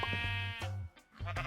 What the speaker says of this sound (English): We got a sheep. Hi, sheep.